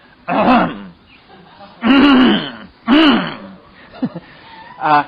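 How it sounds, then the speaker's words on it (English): Several loud, gravelly throat-clearing rasps come in separate bursts, close to the microphone, with short pauses between them. "you hear me clear my throat 200 times in the course of an evening"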